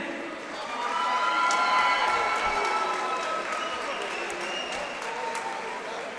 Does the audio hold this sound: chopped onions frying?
no